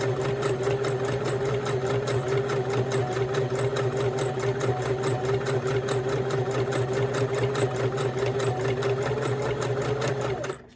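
A sewing machine stitching rope onto a cork coaster, a loud, steady, rapid mechanical whir with a rhythmic needle beat that runs continuously without talking and stops at the very end.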